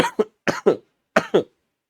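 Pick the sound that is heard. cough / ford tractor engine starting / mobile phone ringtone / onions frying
cough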